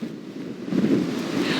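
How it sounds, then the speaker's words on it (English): Ocean surf and gusting wind at Surfside during Hurricane Ian, a continuous rushing wash of waves with wind buffeting the microphone, swelling louder partway through, no talk. "The sound of the ocean is less, and the waves are smaller than they were before."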